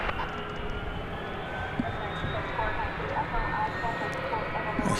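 Airplane engines spool up at Dallas/Fort Worth International Airport at night, a steady distant roar with faint whine heard continuously beneath voices.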